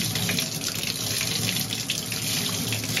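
Water runs steadily from a tap while a chalk paint brush is rinsed under it. The flow is a continuous, close, even hiss with no speech.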